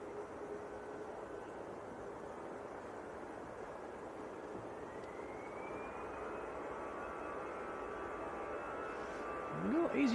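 EasyJet jet airliner departing Manchester Airport for Amsterdam in freezing winter weather, a steady distant engine roar with a faint rising whine, growing slightly louder near the end.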